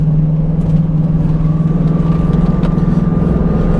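A modded 2001 Ford Mustang Bullitt drives a winding road, its engine a loud, steady droning rumble with a constant hum and no voices over it.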